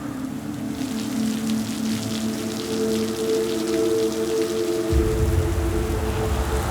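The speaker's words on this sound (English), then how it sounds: "The rains keep coming." Rain falling in Singapore's jungle during a cold snap, a steady, close patter of drops with a low tonal hum beneath that changes to a deeper rumble near the end.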